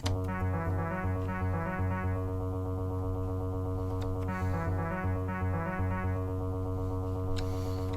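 The second bass part of a video game battle theme plays in a different rhythm within a dense, loud full-band mix, its busy low-end pattern pulsing steadily beneath bright synth layers and occasional crash-like accents.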